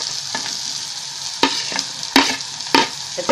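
Sliced onions fry in a pan with red chili powder for a Maharashtrian peanut mhadya, giving a steady close sizzle broken by several sharp scraping stirs.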